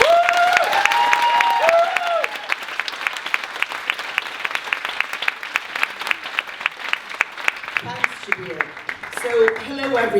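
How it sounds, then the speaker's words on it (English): An audience at a strike solidarity rally breaks into applause, steady clapping that carries on for several seconds and then thins out as a voice begins to talk. "give a round of applause to Ellen Grogan"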